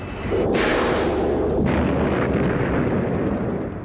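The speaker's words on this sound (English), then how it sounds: "the #1 weapon of choice of an A-10 pilot is going to be their gun" The gun of an A-10 close-air-support jet fires in a loud, continuous, rumbling roar that stays strong for several seconds, with a couple of brief sharper edges early on.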